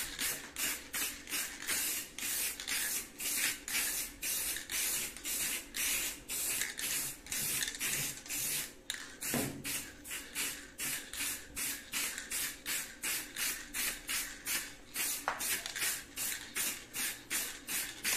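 High-temperature Colorgin spray paint being sprayed onto a household appliance in repeated short, even hissing bursts, close and steady, with brief pauses between passes and no talking.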